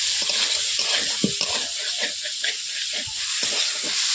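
Potatoes sautéing with spices in a pan for a fish curry, a steady sizzle and hiss with scraping stirs of a spatula, close and continuous.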